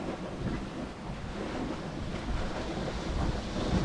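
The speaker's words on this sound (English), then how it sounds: "all of a sudden there's 18 knots of wind on the beam from south-southeast" Wind and waves aboard a sailing boat at sea in an 18-knot beam wind bound for Fair Isle, Shetland, a steady broadband rush of gusting wind and water with no talking.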